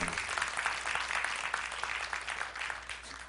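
Audience clapping steadily after a guitarist's performance at a church talk event, a dense, continuous wash of hands that holds at an even level throughout without voices.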